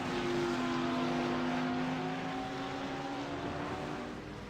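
GT3 race cars, including a Ferrari, Audi, Ford, BMW and Porsches, race at Mugello, their engines making a sustained moderate whine with rising tonal pitch that fades slightly toward the end.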